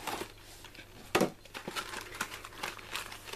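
A box holding a foil pen for a Silhouette Cameo cutter being opened, with close crinkling and crumpling of packaging in short bursts, one sharper rustle near the middle, then lighter handling.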